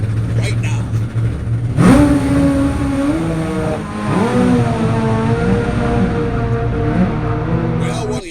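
An all-billet, side-drive, overhead-cam drag racing motorcycle engine based on the Suzuki Hayabusa revs loudly at a race meet, its rising and falling tones repeating in several bursts, under a nearby commentator's voice.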